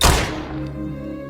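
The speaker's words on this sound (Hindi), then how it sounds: "मैंने अपनी पिस्तौल से उस पर गोली चला दी।" A pistol shot in a Hindi haunted-house story: one sharp, loud thud-like bang that decays into a lingering low ringing tail, with no voices.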